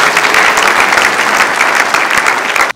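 A church congregation gives God a round of applause, with dense, steady clapping filling the room at close range for a couple of seconds before stopping abruptly.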